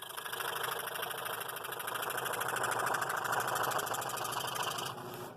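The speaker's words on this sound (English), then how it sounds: "For now, I'm going to start cutting on these outer." A scroll saw cutting wooden parts for a box with a living hinge wall gives a steady, rapid mechanical buzz, close and continuous, easing slightly just before the end.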